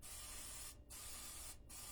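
A pump-pressurised oil sprayer mists cooking oil in two long hissing bursts, each broken by a short gap, close and steady.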